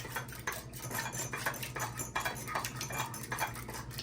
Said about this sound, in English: I'm just gonna whisk these up